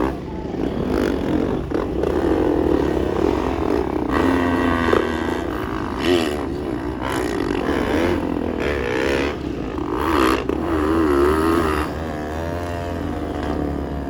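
Motocross motorcycle engines at a novice production heat during a fiesta race, rough droning and revving that rises and falls continuously, loud and fairly close, with crowd noise mixed in.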